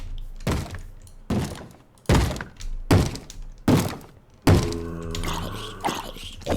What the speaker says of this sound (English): With the banging on the door and everything?